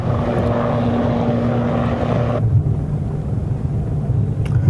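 A navy helicopter flies over the sea during a rescue demonstration, its loud steady rotor and engine roar filling the scene, with the sound changing abruptly partway through.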